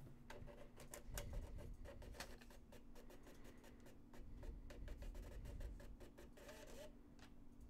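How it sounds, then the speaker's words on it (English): A compact Bluetooth printer in a field-medical setting prints a hard copy, giving a steady run of rapid mechanical ticks and clicks over a low continuous motor hum, close and fairly quiet throughout. "After selecting print, a hard copy is printed on the Bluetooth printer."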